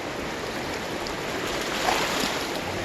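Spring river water rises quickly and rushes past as a steady broadband wash, with a windy, surf-like roar that stays loud and even throughout, with no talking.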